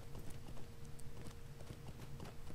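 Horse hooves clip-clopping in the Lord of the Rings Online video game, a steady rhythmic run of crisp, fairly quiet hoofbeats, with no talk over them.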